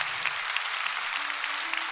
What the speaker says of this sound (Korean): 우리 뜨거운 박수로